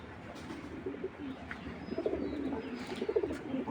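A pair of racing pigeons coo softly in a loft, low repeated calls building in the second half over a faint rustling background, close by.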